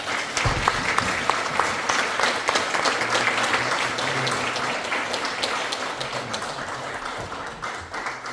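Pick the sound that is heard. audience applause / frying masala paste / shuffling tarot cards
audience applause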